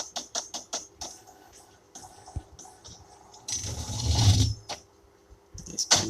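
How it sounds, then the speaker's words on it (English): A Brother DCP J100 inkjet printer tries to print a photo on thick glossy photo paper that it fails to load. Scattered mechanical clicks and ticks lead to a louder whirring, grinding burst near the middle, then a few more clicks. "It's printing."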